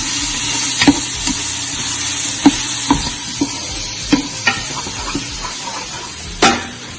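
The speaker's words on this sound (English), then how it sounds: "So saute that really nicely." Green onions sauté in a hot pan with a constant loud sizzle, while a utensil taps and scrapes the pan roughly every half second and a louder scrape comes near the end.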